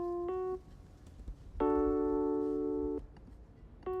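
A major chord on a keyboard sounds clearly alone, held steadily for about a second and a half, with brief single keyboard notes struck before and after it; no talking.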